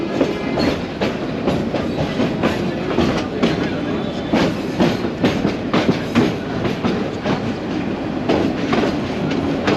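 A local train runs from Dhaka into Narayanganj, close and loud, with steady clickety-clack of wheels over rail joints in a regular rhythm over a continuous rumble.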